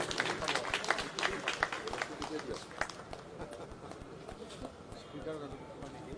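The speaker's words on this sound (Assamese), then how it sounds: "সকলোকে হাত চাপৰি দিবলৈ অনুৰোধ কৰিছোঁ।" Applause and cheering from an audience at a pre-Christmas celebration, a dense rolling patter of many hands that is loudest at the start, eases off toward the end, and is mixed with crowd voices.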